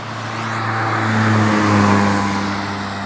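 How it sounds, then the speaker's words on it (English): A vehicle passing on a street beside new highway construction, its engine hum swelling as it approaches and fading away over a few seconds, moderately loud with steady road noise. "So you'll be hearing a lot of vehicle passing."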